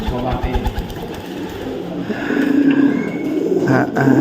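A prized songbird from Pamekasan named Dewa Naga calls in a series of short rhythmic notes, followed by a denser warbling stretch, with people talking nearby.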